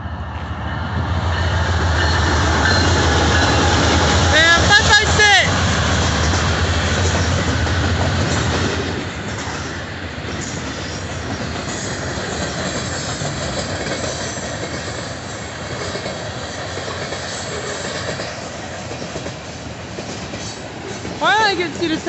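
BNSF locomotives 512 and 556 leading the northbound Sac local freight, a loud steady rumble of the passing train with wheel squeal and clickety-clack, easing slightly as the cars roll by.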